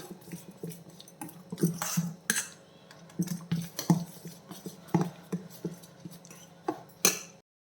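A spoon stirring horse gram idli batter in a bowl, irregular soft knocks and clinks against the sides at a fairly quiet level, ending abruptly.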